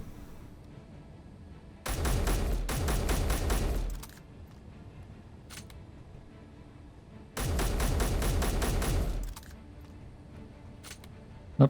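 A turret in Space Engineers fires two loud, rapid bursts, each roughly two seconds of dense repeated shots, separated by a quieter stretch with a few faint clicks.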